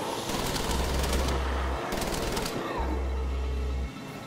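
Rapid bursts of gunfire in the video game Wolfenstein: The Old Blood crackle in quick succession, with a steady low hum underneath and a short gap between volleys.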